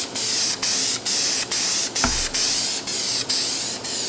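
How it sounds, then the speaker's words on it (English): Steady hissing of a spray gun painting a carbon fiber wing in repeated short bursts, about eight passes with tiny gaps between, loud and close. "we're ready to start spraying."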